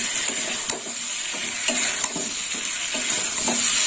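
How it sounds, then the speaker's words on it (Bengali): Fried potato and pumpkin pieces are stirred in hot spices in a pan: a steady close sizzle with regular scraping strokes about twice a second, with no talking. "আলু কুমড়ো দিয়ে একটু কষে নেব।"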